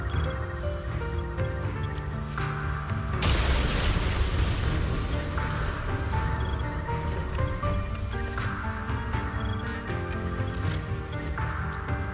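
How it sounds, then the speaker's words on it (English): Explosions burst out in the video game Zenless Zone Zero: a loud booming blast rises over the game music and lingers as a rumbling wash before fading back under the soundtrack. "Why are they exploding?"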